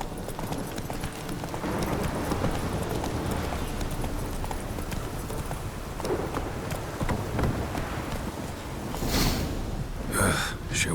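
Roach, a horse in The Witcher 3: Wild Hunt, gallops with steady hoof clip-clop over a dense game soundscape, staying loud throughout, while brief brighter bursts land near the end.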